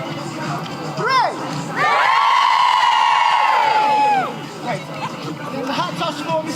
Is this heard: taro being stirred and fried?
no